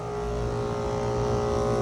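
A 2009 Bryant 3-ton central air conditioner runs steadily outdoors, its compressor giving a constant mechanical hum with a tonal drone and the fan motor adding a broad airy whoosh, close and unbroken.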